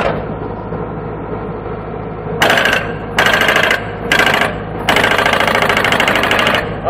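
A JCB 130 backhoe's hydraulic breaker hammers in four loud, rattling bursts, the last one the longest. Short pauses separate the bursts, and a low machine idle runs underneath.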